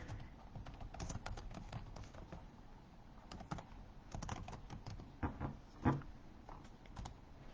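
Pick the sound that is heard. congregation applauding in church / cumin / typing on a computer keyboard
typing on a computer keyboard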